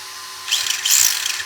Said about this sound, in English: Sorry about the noise from the fans